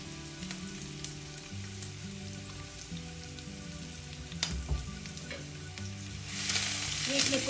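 Mushrooms and curry leaves fry in a pan with a steady, soft sizzle and light crackling throughout, a stirring scrape around the middle, and the hiss swelling louder toward the end.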